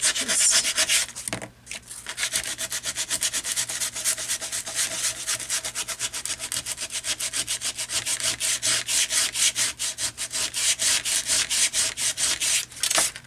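Steady, rhythmic rubbing of abrasive against a thin card, continuous strokes at close range with a short pause near the start.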